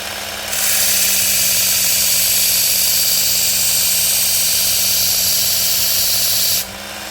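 A Work Sharp Ken Onion belt sharpener grinds along a knife blade, a steady, close motorized whine that starts sharply, holds evenly for about six seconds, then cuts back to a lower hum.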